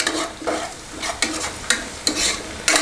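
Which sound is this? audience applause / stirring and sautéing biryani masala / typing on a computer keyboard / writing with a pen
stirring and sautéing biryani masala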